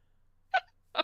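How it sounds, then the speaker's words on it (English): A person sneezes twice in quick succession, two short bursts close to the mic against a quiet background hiss, during a Cobblemon Star Academy playthrough. "Sorry, that was me sneezing."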